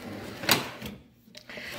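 A metal tool-chest drawer slides open with a short scraping rattle and a quick clunk, close up, followed by a moment of near silence and a faint second knock.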